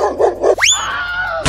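A cartoon dog gives a couple of short growling yaps, then a sharp rising yelp-like bark that trails off, loud and close in a brief burst.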